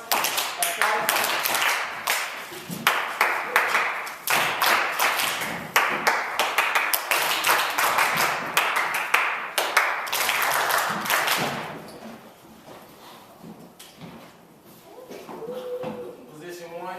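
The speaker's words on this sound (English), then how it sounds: "Clap once. Clap once. Clap twice." A classroom of students clapping on cue, many quick overlapping claps in dense bursts for about ten seconds, then fading to quieter murmurs and a teacher's voice.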